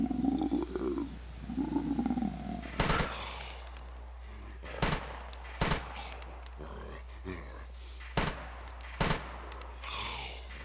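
Rifle shots in the survival game SCUM, five or six sharp, loud cracks spaced a second or two apart, with someone speaking between them over a low hum.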